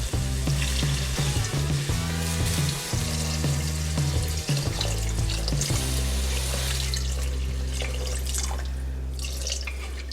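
Water poured into a pot of dal being cooked for dal tadka, a continuous splashing and trickling with rhythmic gurgling pulses, close and fairly loud, no voices.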